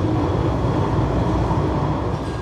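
An Istanbul metro train rumbles along with a loud, steady low roar and rattle of the carriage, heard close from inside, with no talk.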